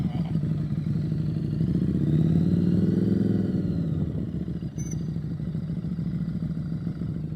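A Harley motorcycle holds a steady mid-pitched engine drone during a riding test, swelling slightly as revs rise midway, then settling back to an even rumble with a brief dip near the end.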